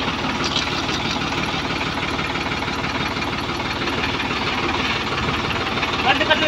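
A Sonalika DI-50RX tractor diesel engine drives a pulley irrigation setup. Its loud, close, continuous knocking chug runs at a rapid even beat throughout.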